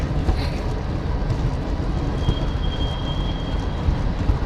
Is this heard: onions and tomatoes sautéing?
no